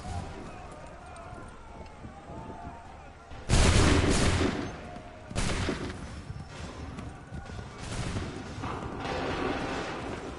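Musket volleys in Assassin's Creed 3 crack out in several loud bursts, the first and heaviest near the middle, followed by further rolling salvos over a background of battlefield din and shouting voices.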